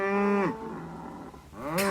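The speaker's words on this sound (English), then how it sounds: "Cows, he said." Cows in a field give two loud, close moos, one drawn out at the start and another rising at the end, with no one talking.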